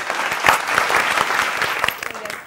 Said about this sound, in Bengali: জোরে করতালি হবে